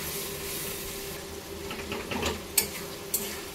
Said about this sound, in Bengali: মাছটা কিন্তু ওই মশলার সাথে দিয়ে কিন্তু ভালো করে কষিয়ে নিচ্ছি